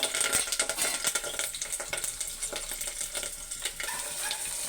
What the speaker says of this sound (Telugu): చూడండి, ఉల్లిపాయ పచ్చిమిరకాయలు వేసుకున్నాను.